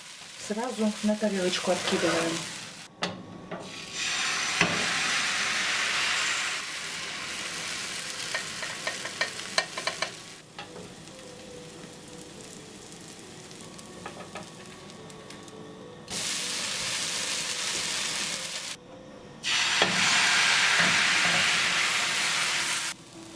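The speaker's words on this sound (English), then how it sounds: "Flip our pancake and briefly fry the other side." A thin pancake frying in a hot pan, its steady hiss rising into loud sizzling bursts and dropping back to quieter stretches, heard close with no speech.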